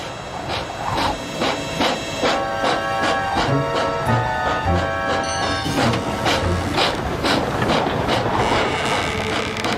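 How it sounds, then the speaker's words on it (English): Toby the tram engine rolls across a rickety old wooden bridge, a steady clickety-clack of wheels over loose rails with creaking, tonal squeals, loud and continuous with no talk. "But Toby had forgotten about the rickety old bridge"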